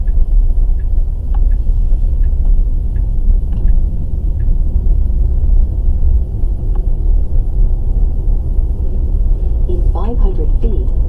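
A Tesla running FSD Beta rolls along a residential road with a steady, low road and cabin rumble and a few faint ticks, and brief navigation speech comes in near the end.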